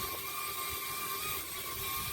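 A small, inexpensive mini camera drone (FQ26) in flight, its propellers giving a steady, high-pitched whine with sharp tonal lines, continuous and fairly close throughout with no voices.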